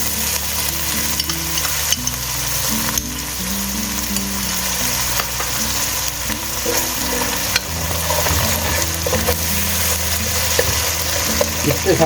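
Onions frying in a pan with garlic and ginger paste just added, nearly browned, for a beetroot dish: a steady loud sizzle with scraping stir strokes throughout, no talking.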